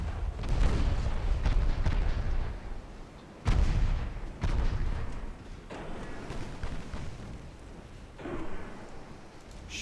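Heavy warship main guns fire high explosive shells in a naval combat game, a few deep booming blasts at intervals over rumbling low battle noise, with no talk.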